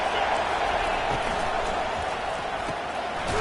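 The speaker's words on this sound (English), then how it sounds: "It is getting loud as this crowd tries to help its defense." Stadium crowd noise swells in an American football video game, a dense, steady roar of a large audience cheering to support the defense, broad and continuous without distinct claps.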